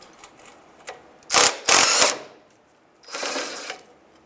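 Ratchet working a bolt loose from the oil pan bracket of a 1992-1996 Ford F-150, heard as several close, loud bursts of rapid clicking separated by short pauses.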